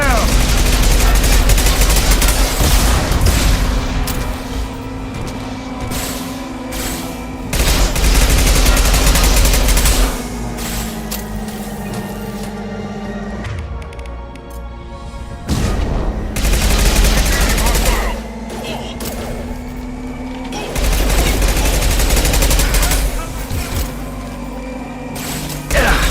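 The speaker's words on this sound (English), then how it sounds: "Firing an impact shot!" Heavy, continuous automatic gunfire from an impact shot in Mass Effect 2 roars loud and close in long sustained bursts with brief lulls, mechanical clatter mixed in.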